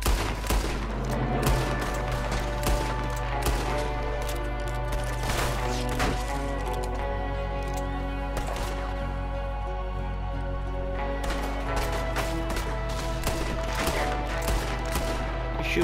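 Gunfire in Red Dead Redemption 2, with loud, repeated shots and rapid volleys cracking over steady game ambience in an irregular, sustained firefight.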